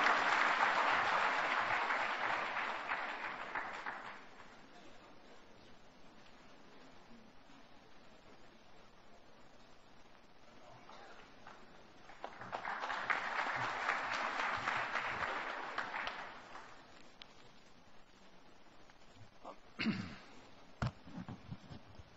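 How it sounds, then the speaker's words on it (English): Audience at a chartered accountants' event applauds to welcome Dr. Subramanian Swamy, two waves of clapping several seconds each separated by a quieter lull with scattered claps near the end. "Please give with a big round of applause."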